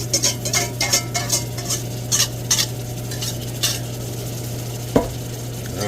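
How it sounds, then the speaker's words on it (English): Vegetables are stirred in a pot with a spoon, giving a series of soft scraping and clinking strokes over a low sizzle and steady hum, ending with one sharper knock against the pot. "we're going to give this a mix here"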